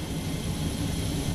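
A police rescue helicopter hovering about 20 meters above water during a rescue produces a loud, continuous rotor and engine roar. It stays close and unbroken, with no talking.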